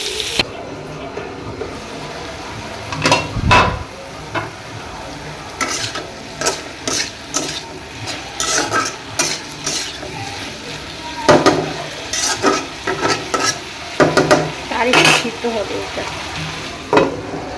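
Bitter gourd frying in a home kitchen pan, with a steady sizzle underneath and frequent sharp scrapes and clacks from a stirring utensil against the pan, close and fairly loud throughout.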